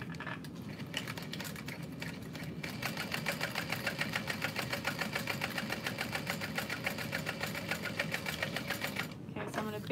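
A sewing machine top stitches a rose-shaped handbag, running in one steady, even rhythmic whir for nearly ten seconds at a fairly low level.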